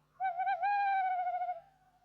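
A single drawn-out owl hoot, clear and close against near silence, wavering slightly before trailing off, used as a sound effect in a forest setting of a children's story.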